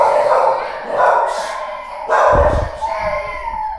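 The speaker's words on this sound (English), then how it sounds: "There's a lot of dogs in here." Several dogs bark and yip indoors in a dome-shaped master bedroom of a hand-built home in the Philippines, with bursts of barking overlapping and repeating at close range amid some background voices.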